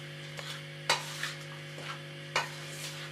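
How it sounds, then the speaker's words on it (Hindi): A spoon stirs coconut and raisins into a chickpea laddu mixture in a pan, with a few soft scrapes and knocks spaced irregularly over a steady background hum, quiet and close with no talking. "अब हम इन सारी चीज़ों को मिक्स कर लेंगे।"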